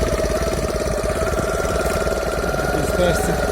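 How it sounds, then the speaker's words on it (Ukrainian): Walk-behind MT Kozachok tractor rolling downhill in first gear off the throttle, its engine braking with a steady, loud, low chugging drone throughout, with someone talking over it. "Ногу з газу забрав накатом їду. Ну, Тобто гальмує двигуном"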